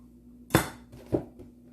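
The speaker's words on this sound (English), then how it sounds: "1 cup of blueberries going in there." Frozen blueberries poured into a smoothie container for a chocolate green smoothie: two close, clattery bursts of hard berries hitting and rattling, with a quiet pause between.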